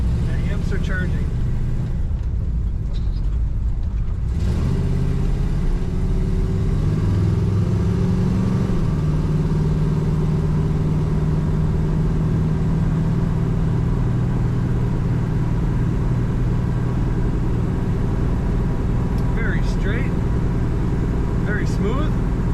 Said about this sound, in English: You can feel that engine's power.